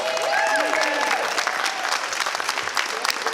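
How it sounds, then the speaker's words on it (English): An audience at a roast bursts into applause, loudest at first and then thinning into scattered claps, with some voices and cheers mixed in. "Round of applause."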